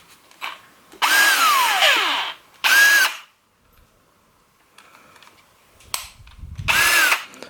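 Black and Decker 18V BDH18 hammer drill whirring in short bursts, close and loud, with the motor pitch sweeping as it spins up and winds down, separated by quiet gaps and small clicks.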